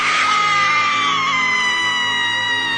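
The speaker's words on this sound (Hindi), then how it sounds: "रेशमा की एक आखिरी सबसे जोरदार चीख" A woman in a cartoon lets out one long, loud, piercing scream that holds steady and slowly falls in pitch, with nothing else audible.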